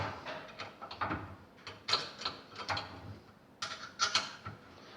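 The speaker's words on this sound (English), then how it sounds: "Clamp the tailstock down." Lathe tailstock being clamped down on a 1940s machine, a run of close metallic ratcheting clicks and grinding mechanism sounds in irregular bursts, with no talking.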